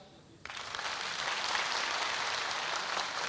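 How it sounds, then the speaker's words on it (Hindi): After a brief quiet moment, a live comedy show crowd bursts into strong, sustained applause that stays full and even to the end. "और हमारे अमित भाटी जी के लिए जोरदार तालियां"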